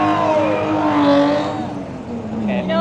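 A Porsche Cayenne fitted with an FI exhaust sweeps past, its engine note rising and falling over a few seconds while a voice talks over it.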